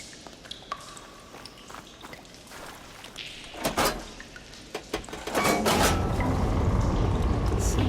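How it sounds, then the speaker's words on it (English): Scattered clanks and soft pings give way to a steady rush of flowing water that swells and continues to the end, as water flow is switched in the game Horizon Forbidden West. "Sounds like the water's switched."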